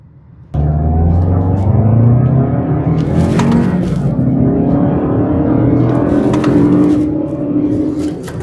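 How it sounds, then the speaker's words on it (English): Lexus SUV engine revs hard and climbs through paddle-shifted gears, a loud, steady drone rising in pitch with brief dips at each shift, close to the listener and with no talking. "I just love taking my Lexus SUV by the scruff of the neck and banging it through the gears."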